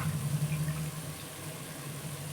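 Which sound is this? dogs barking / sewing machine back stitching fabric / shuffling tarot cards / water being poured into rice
water being poured into rice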